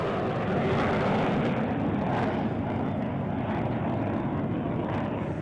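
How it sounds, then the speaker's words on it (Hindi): Dakota and Dornier aircraft flying in formation at an Air Force Day flypast, a loud, steady broadband engine roar that stays constant and dense for several seconds with no talk. "आपको डकोटा और डॉर्नियर विमानों का फॉर्मेशन है जो राइट टू लेफ्ट आपको जाता हुआ दिखाई दे रहा है।"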